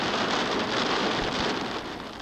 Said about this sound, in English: A virtual deluge hit North Phoenix.